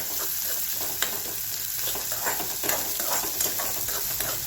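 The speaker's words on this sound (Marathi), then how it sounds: "कांदा लसूण चांगलं परतून घ्यायचंय।" Chopped onion and garlic sizzling and being stirred in a hot pan for a drumstick-leaf vegetable dish, a close, continuous frying hiss with small spatula scrapes throughout.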